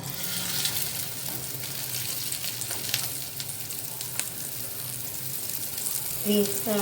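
An Afghani chapli kabab patty sizzles in a pan over medium heat, giving a steady low frying hiss with a few soft clicks and a brief knock near the end.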